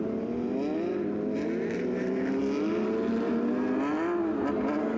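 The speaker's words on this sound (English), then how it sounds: "So you can hear the engines firing, revving up as the drivers get hard on the gas" Porsche GT3 Cup race cars at Canadian Tire Motorsport Park revving before a race start, several engines blending into a continuous loud drone whose pitch rises and falls in waves, with no speech.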